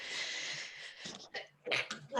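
A sneeze interrupts a tabletop role-playing game session. It comes as a short, sharp burst partway through, with a second explosive burst soon after, amid low room noise.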